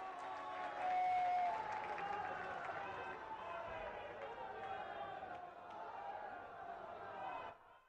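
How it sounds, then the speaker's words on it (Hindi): Audience applause welcoming the Prime Minister at a development event in Varanasi, a large crowd clapping and cheering steadily, tapering off at the end, with voices mixed in. "सभी लोग खड़े होकर जोरदार तालियों से उनका स्वागत करें"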